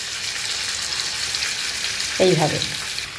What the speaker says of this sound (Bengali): এবার মাছটা আস্তে আস্তে ভাজা হোক।